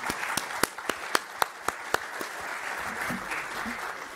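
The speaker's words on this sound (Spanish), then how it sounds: "Pido un aplauso para ellos." Audience applause for the leaders of Ecuadorian football at a talk on digital marketing: a dense wash of clapping carrying on for several seconds, with a few sharp louder claps near the front standing out in the first two seconds.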